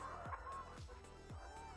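Chickens on a poultry farm cluck and call in short repeated bursts, fairly close and clear, with a low background hum and no voices.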